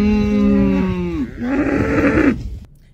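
Cattle on a New Zealand farm give long, drawn-out moos close by, one sustained call sliding down in pitch followed by a second rougher, wavering low, heard alone without talk.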